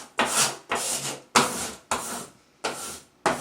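A squeegee or flat tool rubs a decal onto a wall in six firm, close, evenly spaced scraping strokes, each a short rough swipe followed by a brief pause, with no voices.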